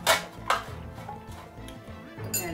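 Spice and salt are stirred together in a dish while cooking pili pili rice, giving sharp clinks and scrapes of utensil on dishware at the start, middle and end, fairly close and moderate in loudness, with no talking.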